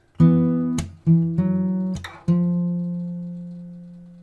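Fingerstyle acoustic guitar with a few crisp percussive slaps between ringing bass and treble notes, starting on open G, the last chord left to decay.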